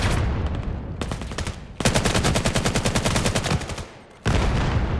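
Sustained rapid gunfire in a 5v5 tactical shooter video game, loud bursts of automatic fire with brief pauses between volleys.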